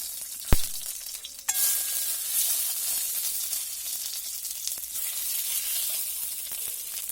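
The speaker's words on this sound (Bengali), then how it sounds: "তো তেলটা গরম হয়ে ডিম করে ভেজে নেবো হালকা করে।" An egg hits hot oil in a wok with a sharp crackle, then a steady loud sizzle carries on alone, with a few faint clicks from a utensil.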